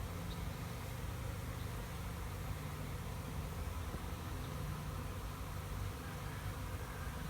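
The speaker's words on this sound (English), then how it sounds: "You can probably hear the bees if you listen real carefully." Dense, steady buzzing of a honey bee swarm of ten thousand or more bees gathered at a swarm trap on a house, a continuous low hum with no break and no voices.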